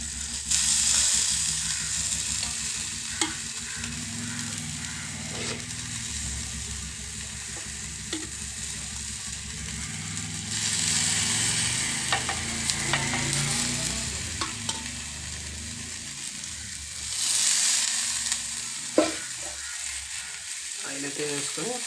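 Prawns fry and get stirred in hot oil with a steady close sizzle, broken by scraping spoon strokes and brief louder bursts throughout, no voices.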